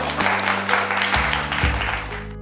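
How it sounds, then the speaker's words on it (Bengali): A room of people clap loudly for the team members, women in saris and Senco jewellery, at a Senco family contest event in a Sainthia store. Dense, sustained applause runs the whole time over a faint low musical hum. "একটা জোরে হাততালি হয়ে যাক for all the team member."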